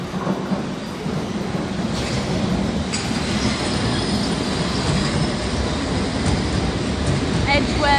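A London Underground Circle line train arriving at Edgware Road rumbles and rattles loudly throughout, with faint squeals of metal wheels and a brief higher screech near the end.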